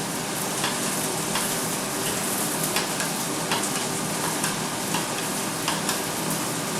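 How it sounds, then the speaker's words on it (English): Chilli crab sauce base sizzles loudly in a hot pan, a dense, even frying hiss broken by regular scraping strokes as it is stirred, heard close with no talk. "I'll just give that a quick mix around, and that's the base for our sauce"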